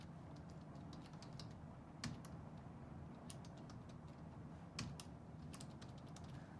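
A client's name is typed on a computer keyboard in quiet, soft clicks with a few sharper keystrokes over a low room hum and no speech.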